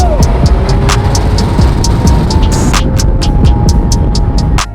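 A 1997 Mazda Miata widebody project car on the move, its engine and road noise a steady, loud, droning rumble with faint regular ticking above it throughout.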